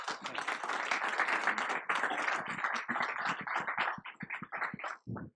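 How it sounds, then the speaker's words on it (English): An audience at a tech conference talk applauds loudly with dense, sustained clapping that thins into scattered individual claps before stopping. "a round of applause for these guys."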